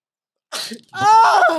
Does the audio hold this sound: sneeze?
yes